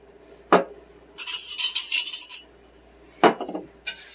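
A whisk works through a creamy garlic sauce with Parmesan for chicken in a metal pan. Quick rattling bursts of metal scraping come in short spells, separated by sharp clinks and quiet gaps.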